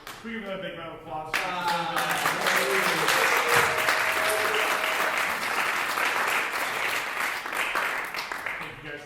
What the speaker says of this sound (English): We give a big round of applause.